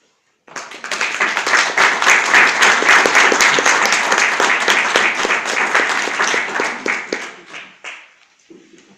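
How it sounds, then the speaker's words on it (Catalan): After a poetry reading at a book presentation, an audience bursts into loud, close applause that holds strong for several seconds, then thins into scattered claps and fades out. "Els aplaudiments són per a tu"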